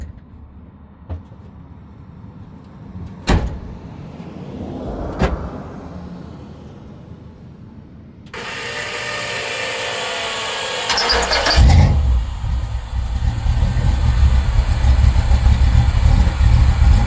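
A car engine cranks and catches after being unloaded from a trailer, then settles into a steady, fairly loud idle that grows slightly stronger and continues to the end, preceded by a few isolated knocks and clunks.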